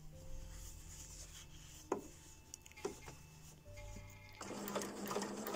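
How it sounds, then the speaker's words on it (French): A sewing machine stitches recycled denim patchwork pieces for a skirt, its needle running in close, steady bursts with brief pauses and a faster, louder run near the end. "Et l'aiguille va passer juste à côté, mais sur le tissu."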